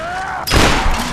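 A sudden loud blast from explosive objects in a Tomb Raider game, a sharp broadband boom that rolls into a dense, sustained rumble for about half a second, close and alone.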